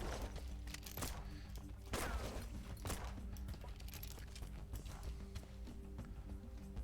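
Pistol gunfire in Dust and Neon, a Borderlands-like roguelite shooter: a handful of sharp, loud shots at uneven intervals over a steady music and game-sound bed.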